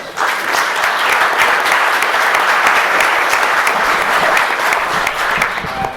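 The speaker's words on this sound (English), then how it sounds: "So please give him a round of applause." A room of guests applauds at a mayoral reception in Dooradoyle, a loud, dense and even burst of clapping that holds steady for several seconds before easing slightly.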